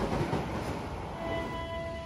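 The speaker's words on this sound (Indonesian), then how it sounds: "Ini dia yang ditunggu-tunggu akhirnya tiba, kereta Gaya Baru Malam Selatan." The Gaya Baru Malam Selatan economy train arrives at a station platform with a continuous rumbling roll and faint squealing tones, heard on its own at moderate distance.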